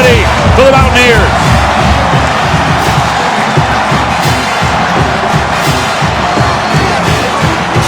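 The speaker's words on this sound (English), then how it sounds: "This crowd is rowdy." A rowdy college football stadium crowd roars loudly and steadily, a dense, sustained wall of cheering and yelling that follows an interception in a TCU at West Virginia game.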